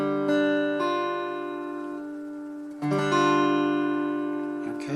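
A guitar chord strummed once and left ringing, then strummed again about halfway through, sustaining clearly with no talking.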